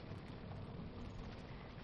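Rain falling on a 2016 Mini Cooper S Cabrio, a continuous dense patter and hiss at even loudness with no talking over it.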